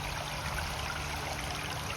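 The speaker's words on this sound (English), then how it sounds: "the water just overflows and it pours down into the rocks" Water overflows a fountain and pours onto rocks, producing a steady, close, broadband splashing rush with no pauses.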